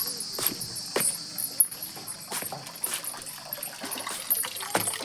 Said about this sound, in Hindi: टंकी चल रही है।